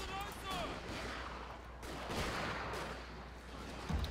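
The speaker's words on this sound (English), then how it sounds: "Infantry, lay down suppression fire." Infantry in the game Total War Shogun 2: Fall of the Samurai fire suppressing volleys, heard as a dense, distant crackle of continuous gunfire under battlefield noise, with faint voices in the mix.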